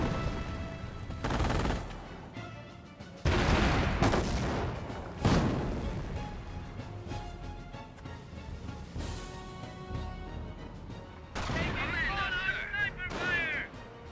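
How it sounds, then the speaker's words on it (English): In the Company of Heroes strategy game, a sniper rifle fires amid a battle with sharp, cracking shots spaced apart and other distant gunfire and booms. A voice is heard faintly at times. "Sniper does take a shot there."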